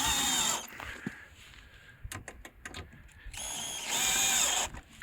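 A power driver whirs in short bursts, close up, with ratcheting clicks in between, as self-tapping screws are driven into the headlights of a BMW E36.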